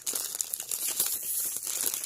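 Plastic packaging around a doll crinkles and crackles in dense, continuous bursts as it is pulled open by hand, close and fairly loud with sharp crisp snaps throughout.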